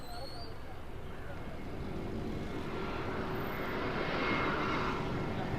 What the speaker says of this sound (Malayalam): ഇതാ വരുന്ന നമ്മുടെ ഇൻഡിഗോ എയർ വിമാനം ബോംബെ ടു